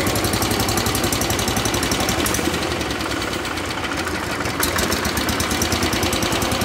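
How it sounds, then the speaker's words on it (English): An engine idles roughly with a steady, dense mechanical clatter and a knocking vibration, loud and close throughout, with no speech. "let it run before I throttle it up. It's already idling better."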